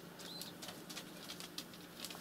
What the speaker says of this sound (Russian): Вот я занимаюсь с голубями.